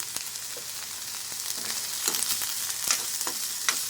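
Sliced onions sprinkled with a little salt fry in a pan, giving a steady close-up sizzle and crackle with scattered small pops and stirring scrapes, and no voices.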